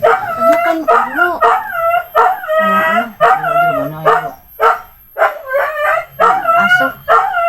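A dog, Jabar's, barks, howls and yips in a loud, close, repeated series of drawn-out cries with brief gaps, and a voice may be mixed in.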